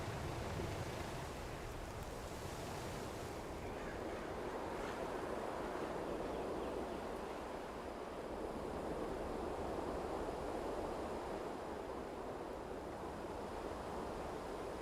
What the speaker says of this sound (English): The water's going right through the deck.